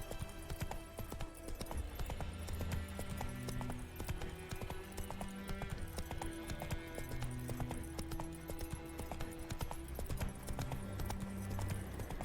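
Roach, a horse in The Witcher 3, gallops with steady rhythmic hoofbeats clip-clopping throughout at a moderate, even level. Background game music plays underneath.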